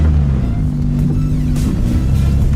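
A Renault Clio crossing the Alps on a rough mountain trail, its engine a steady close low rumble held at light throttle, with faint knocks and scrapes over the track.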